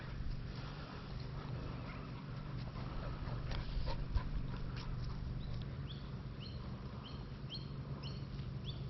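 A hunting dog whimpers softly outdoors, faint and a little distant, with scattered bird calls and a low steady background rumble.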